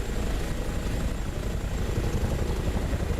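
An H145 helicopter in the video game Microsoft Flight Simulator gives off a steady, dense rotor and engine drone, loud and unbroken with no talking.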